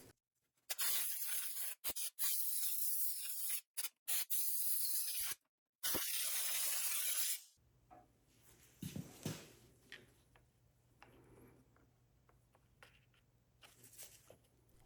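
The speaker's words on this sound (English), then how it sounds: "use some compressed air to clean this area just a bit" Compressed air blasts across the intake area of a Stihl 039 chainsaw, loud hissing bursts in several separate spurts over the first half, then quiet workshop handling and small clicks.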